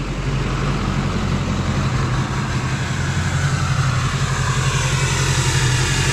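A 2004 GMC Sierra 2500 with a Duramax diesel and a big 5-inch exhaust idles steadily, its low, rumbling engine note loud and close, with no talk over it.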